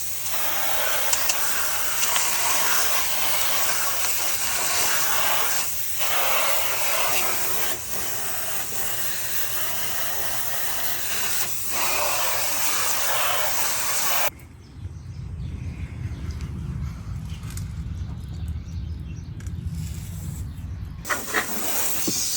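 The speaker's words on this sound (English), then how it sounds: "just a really, really light, quick spray of water to get the rest of that stuff off" A brief, gentle spray of water rinses bugs and debris from an Audi R8's engine bay, a steady hissing wash that runs for several seconds before stopping abruptly, leaving a quieter low rumble.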